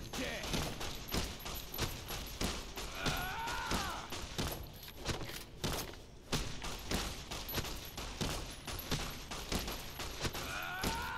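Repeated gunshots crack through a Fallout: New Vegas game scene, a steady run of sharp shots with a voice talking faintly underneath.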